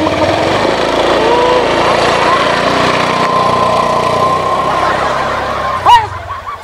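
A motorbike engine runs at a steady idle, a continuous close hum that holds for several seconds before a brief voice cuts in near the end.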